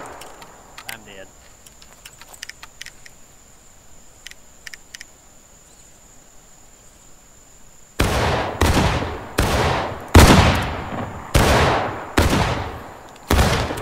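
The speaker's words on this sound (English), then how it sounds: "Give them a good old-fashioned volley." Musket volleys in the Civil War game War of Rights: after a stretch of faint clicks and rattles, a series of six or so loud, close, booming shots rings out at roughly one-second intervals.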